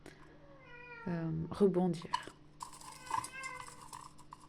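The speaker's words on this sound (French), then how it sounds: "j'ai la minette qui miaule, mais c'est rien." A house cat lets out several drawn-out meows close by, with someone speaking French before and between the cries.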